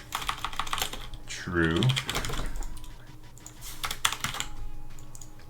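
Computer keyboard typed in quick bursts of close, crisp key clicks, with a voice talking over them.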